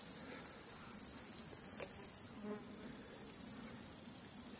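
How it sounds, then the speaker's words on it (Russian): Flies buzz outdoors in wild countryside, a faint continuous hum beneath a steady high insect drone, with a slight dip midway. "Мухи."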